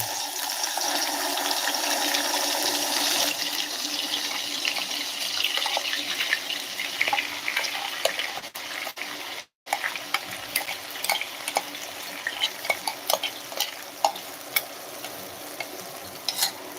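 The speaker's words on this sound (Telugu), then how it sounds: "ఇది హర్బల్ పేస్ట్ ఈ పేస్ట్ని ఆయిల్లో వేసేస్తున్నాను" Herbal paste hitting hot oil for a homemade herbal hair oil, a strong bubbling sizzle that drops out briefly and then settles into steady frying with sharp pops and crackles.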